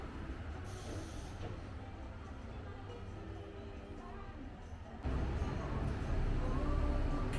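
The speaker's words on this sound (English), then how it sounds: "I was able to catch the 3-car DMU pulling into the station" A 3-car DMU sightseeing train on Japan's Shikoku rail line pulls into a station with a steady rumbling roll and hiss, growing louder and closer in its final seconds.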